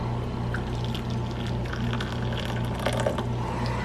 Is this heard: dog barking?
no